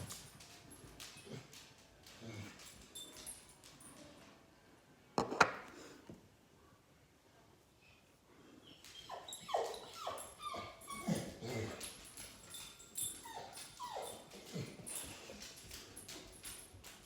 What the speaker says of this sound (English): that's my other dog crying.